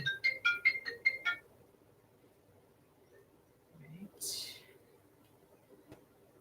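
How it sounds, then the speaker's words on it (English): A phone ringtone chirps in a quick run of about six bright electronic tones at the start, then stops; afterward only faint room noise and a brief muffled rustle follow, with no clear talking. "every time I get started on this, my phone rings"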